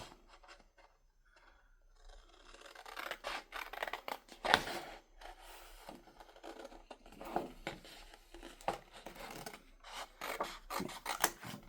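Scissors snip and rasp through material in a quiet crafting setting, a run of short crisp cutting strokes in an uneven rhythm, close and fairly soft, with no talking.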